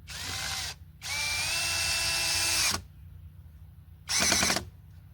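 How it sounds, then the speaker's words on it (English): A power drill driving a screw whines in short bursts, a brief run, a longer steady drive with rising pitch, then another quick burst, close by. "So drill that in on one side"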